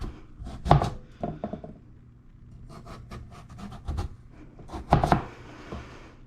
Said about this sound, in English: now we are going to julienne this carrot